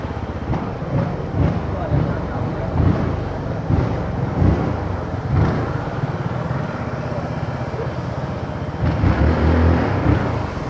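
A Zontes 368G motorcycle with a full remap and Malossi kit revs its engine, a rough, rising and falling roar close by, with wind buffeting on wet ground and a loud surge near the end.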